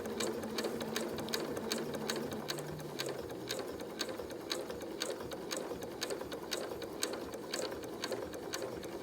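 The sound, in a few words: sewing machine stitching a face mask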